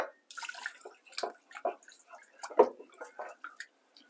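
Water is poured into a pan of creamed mushrooms, a soft splashing trickle heard close up while someone talks over it.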